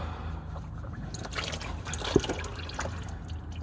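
Fluid drains out of a Dodge Dakota R/T under rebuild, a faint close trickle and dripping with a few brief splashes, alone without speech.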